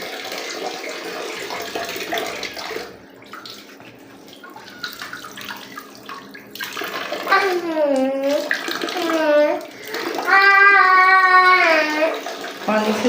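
A little girl pours and splashes bath water at a tub or tap. The water gushes and trickles up close, while she babbles and squeals in playful, rising and falling voice sounds throughout.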